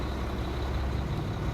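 Truck engine droning loud and close in a steady low rumble while downshifting to third gear, with no clear pause or shift break.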